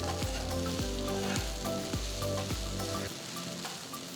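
Chutney ingredients with small pieces of tamarind fry in a pan, giving a dense continuous sizzle with rhythmic scraping strokes of a spatula roughly every half second, close up.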